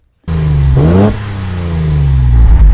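A carbureted Datsun 240Z engine, heard from the front, kicks on loudly nearby, rises in a quick rev, then settles into a rough, steady idle.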